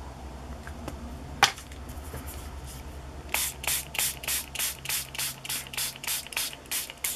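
A spray bottle mists water onto inked paper with a quick series of sharp, regular spritzes, close and crisp, after a few soft clicks and a tap.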